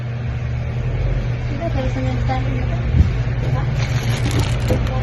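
A Kemie multifunction kitchen appliance's motor spins at about 7,000 RPM, giving a loud, steady whirring hum that holds throughout with a brief bump midway, while a voice talks faintly over it.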